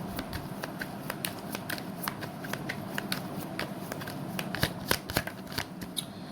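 Tarot cards being shuffled in steady crisp riffling bursts, close and fairly loud, with no voice over them.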